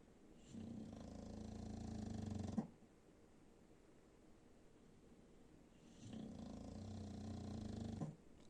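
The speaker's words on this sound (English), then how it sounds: "You're snoring very gentle, so I don't know if you're just pretending to be asleep." A pet named Tony snores gently while asleep, two soft, low, close breaths a few seconds apart with quiet pauses between them.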